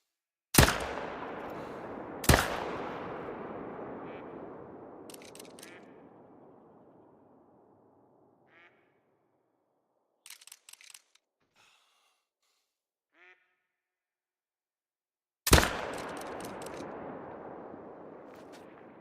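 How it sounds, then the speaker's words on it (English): Gunshots ring out in the hunting video game Call of the Wild: three sharp, loud reports spaced seconds apart, each trailing a long fading echo, with faint game sounds in between. "let's see how my shooting is here"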